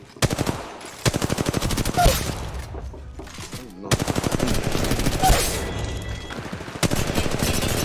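Loud, rapid automatic gunfire from the mobile battle royale game Apex Legends Mobile, long sustained bursts broken by short pauses, with players talking over the shooting.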